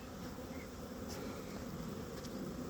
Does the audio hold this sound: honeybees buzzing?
yes